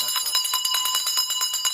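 A small bell rings rapidly and continuously, bright and metallic, its strikes coming in quick even succession close by.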